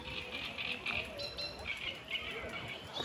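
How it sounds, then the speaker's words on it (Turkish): Birds chirping outdoors on a mild, overcast day in Berlin, repeated short high tweets at a moderate distance over steady background hiss, no talking. "Kuşları duyuyor musunuz arkadaşlar?"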